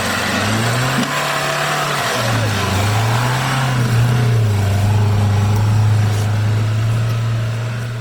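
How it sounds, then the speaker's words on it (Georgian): A car engine with an unwelcome sound drones loudly and close, its pitch wavering up and down before it settles into a steady hum, with faint background noise. "ეს რაღაც მოტორის ხმა არ მომწონს."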